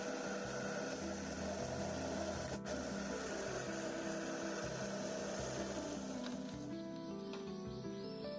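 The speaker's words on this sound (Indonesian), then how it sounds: "Blender sampai agak halus seperti bahan lainnya tadi." A blender runs steadily, grinding chopped banana stem with rice-washing water into a pulp for organic fertilizer, a constant droning whir at low level that shifts pitch slightly near the end.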